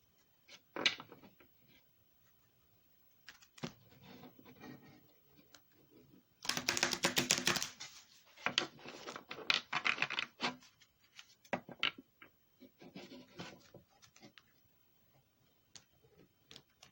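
Psychic Tarot cards being handled, shuffled and pulled from the deck, with soft rubbing, riffling and tapping sounds that come in bursts, including a dense louder flurry of shuffling midway, with quiet pauses between.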